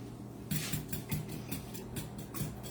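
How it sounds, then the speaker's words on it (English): Ingredients being whisked in a bowl with a fork or whisk, a quick regular series of light clinking strokes against the bowl, fairly faint and without talk. "Go ahead and whisk those for me."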